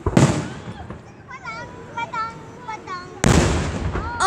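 Independence Day fireworks in Downingtown explode in two big booms, one at the start and one near the end, with whistling, crackling rockets rising between them. People talk and react throughout.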